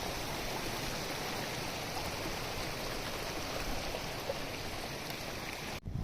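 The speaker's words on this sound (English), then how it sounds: "This is our third water crossing, and this creek is called the South Fork of Santa Ana River." The South Fork of the Santa Ana River, a mountain creek at a hiking water crossing, rushing in a steady, close, broadband wash with no voices, ending in a brief handling bump.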